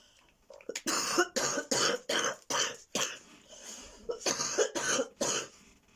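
A person coughs repeatedly in a rapid series of harsh bursts, with a short pause midway before another run of coughs, close and loud.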